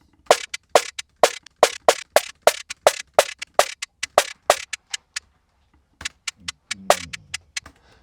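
Synthesized trap hi-hats, built in Serum 2 and layered with a snare transient, tick in an even clock-like pulse of about sixteen crisp hits. A short gap follows, then a quicker, rolling burst of hats. Dry, close and solo.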